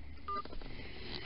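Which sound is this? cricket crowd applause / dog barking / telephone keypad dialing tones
telephone keypad dialing tones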